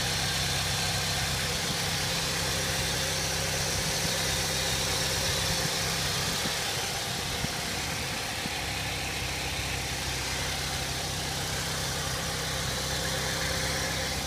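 A 2002 Saturn L200 with a 2.2 liter four-cylinder engine idles steadily throughout, a continuous close low rumble with a constant drone and no voices.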